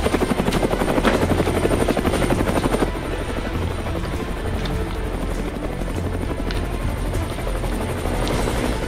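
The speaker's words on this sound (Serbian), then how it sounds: "Adson, helikopter! Gde" Loud, steady rotor drone of a helicopter passing overhead, slightly stronger at first and then easing a little, continuing without pause and with no voices.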